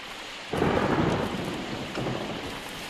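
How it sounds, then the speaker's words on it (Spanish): Heavy rain pours down in a dense roar with low rumbling thunder swelling in, loud and close throughout. "Nunca había visto un palo de agua así."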